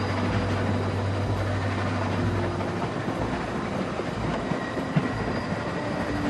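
Steady rumble of a moving train in The Walking Dead video game, low and continuous with light rail clatter and a brief squeal, no voices.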